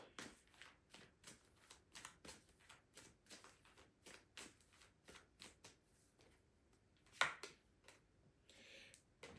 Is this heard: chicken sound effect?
no